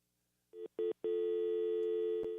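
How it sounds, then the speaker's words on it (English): An incoming call sounds on a telephone as a clear electronic tone: two short beeps, then a long sustained tone, loud and alone. "we got a phone call here"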